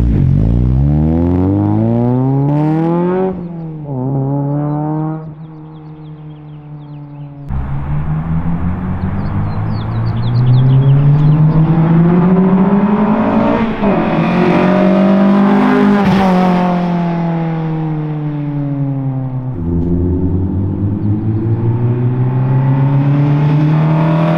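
A 2002 Acura RSX Type S engine revs loudly and close, with repeated rising and falling pitch sweeps, a brief dip to idle, then sustained high-rev pulls.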